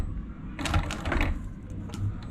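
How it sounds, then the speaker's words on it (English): A sewing machine stitching an altimeter chest strap mount for wingsuit or canopy piloting, with two short close bursts of mechanical whirring separated by a pause over a low background hum. "So we're gonna get to stitching now."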